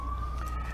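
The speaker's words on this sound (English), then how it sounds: "Hey, what kind of siren is that? Police or the other kind?" A siren sounds as one steady, sustained tone under a low rumbling background, held evenly for under a second with no speech.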